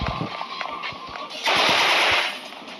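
A hyper AK rifle in Roblox Hyper Shoot firing a rapid automatic burst of close, crisp shots, then a louder sustained hiss of fire near the end.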